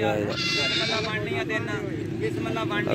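Goats, Beetal and Nagra breeds, bleat repeatedly amid steady background noise and people talking nearby at a goat market in Faisalabad, the calls wavering and overlapping through the busy scene.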